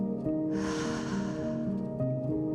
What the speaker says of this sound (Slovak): Ešte raz nádych a výdych.